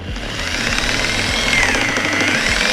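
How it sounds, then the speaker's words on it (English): A rotary polisher strains and bogs down under pressure, a loud, close mechanical drone with rapid low thumping pulses and a slight falling whine as the machine slows. "whether it's an air polisher or an electric polisher, it tends to bog down or slow down the primary movement"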